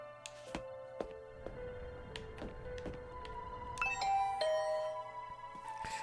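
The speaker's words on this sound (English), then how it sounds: "I could hear the bell ring on the other side of the door" A doorbell chimes inside the video game Last Defense Academy, a ding-dong of clear bell tones that repeats and rings out, with scattered ticking hits over a low background hum, moderately quiet.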